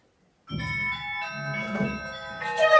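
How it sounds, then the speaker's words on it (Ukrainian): Bells ring out loudly for Easter in a children's puppet show, their layered, overlapping metallic tones sustained and ringing together, close and continuous. "Чому дзвони так гучно дзвенять?"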